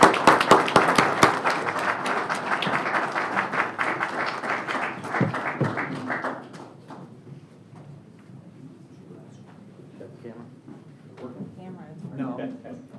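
Applause and clapping from a city council meeting audience as a citation is presented, loud and dense for about six seconds, then fading into scattered claps and murmuring voices.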